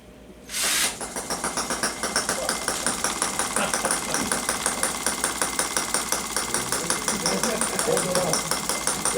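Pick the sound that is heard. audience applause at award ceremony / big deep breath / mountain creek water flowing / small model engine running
small model engine running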